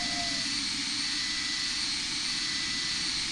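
Steady, loud jet engine roar from an airplane taking off in the Roblox flight game Flightline3D, a constant broad whoosh with a low rumble underneath and no talking.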